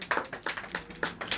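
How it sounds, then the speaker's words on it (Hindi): Classroom audience in a Hindi-language lesson applauds with a brief burst of quick, uneven hand claps, close and fairly loud. "अभिषेक जी के लिए ताली बजा दीजिए"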